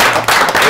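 One person claps hands during a pétanque discussion show, giving a short burst of a few close, loud claps with no talk.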